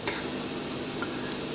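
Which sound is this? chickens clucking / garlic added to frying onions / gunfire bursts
garlic added to frying onions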